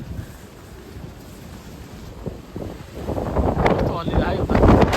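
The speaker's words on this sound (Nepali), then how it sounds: "आजको हावाहुरी त एकदम कडै छ पुरै, लास्टै जोडले" Strong typhoon wind gusting in Okinawa, Japan, buffeting the microphone with a roaring rush that builds and grows louder toward the end, with a voice speaking faintly underneath.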